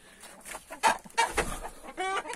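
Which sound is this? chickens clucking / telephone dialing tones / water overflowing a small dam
chickens clucking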